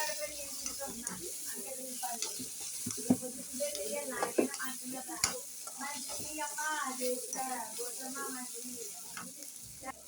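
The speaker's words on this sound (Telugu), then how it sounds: "ఇప్పుడు ఇది బాగా వేగిపోతున్నాం ఫ్రెండ్స్ ఇది బాగా వేగిపోయింది కదా" Turmeric and other ingredients for tomato rice frying in a pan on a home kitchen stove, giving a steady sizzle and occasional stirring scrapes throughout, with faint voices talking in the background.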